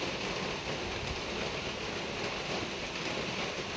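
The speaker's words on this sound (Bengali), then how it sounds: "অনেক বৃষ্টি হচ্ছে, কয়েকদিন থেকে রোজই বৃষ্টি হচ্ছে।" Heavy rain falling on a monsoon day, a dense, even hiss of steady downpour with no breaks and no voices.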